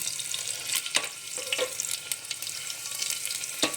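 Cumin seeds and garlic frying in hot oil for a masala mushroom dish, a close, steady sizzle with crackling pops and scraping stirs throughout.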